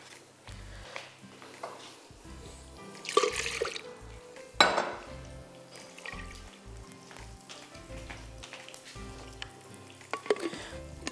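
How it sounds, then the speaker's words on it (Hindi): Chicken pieces rubbed with garlic and salt deep frying in cooking oil, a steady close sizzle and crackle with bursts of louder spitting and occasional clinks of a utensil, no talking. "डीप फ्राई करने रख दिया है चिकन के पीसेस को"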